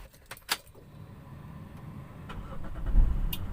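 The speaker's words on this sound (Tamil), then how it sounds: "காரை வந்து ஸ்டார்ட் பண்ணியாச்சு." A car engine starts after faint key jangles and clicks in a quiet interior, with a low rumbling turnover building near the end, fairly soft and close, no talk.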